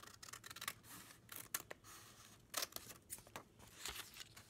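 Scissors snip through paper while cutting triangles for homemade flashcards, giving a quiet, close series of irregular crisp cuts and scrapes with short pauses between strokes.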